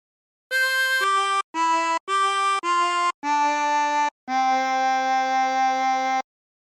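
A Silent Night phrase played on a 24-hole tremolo harmonica: seven clear, separate notes with short gaps, the last two held longer, solo and close with a warbling tremolo tone.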